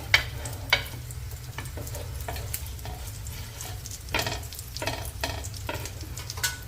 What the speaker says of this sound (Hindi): इसे मैं थोड़ा सा शैलो फ्राई कर रही हूँ